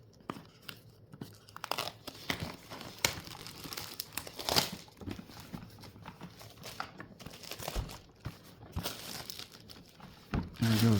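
Plastic wrap crinkles and tears in close, irregular bursts as it is peeled off the case of a Radiomaster TX15 Max radio controller during unboxing.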